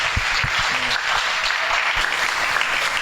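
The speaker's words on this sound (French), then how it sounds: "on peut acclamer cette parole" A church congregation applauds, a dense and steady clapping from many hands that fills the room at full volume for the whole three seconds.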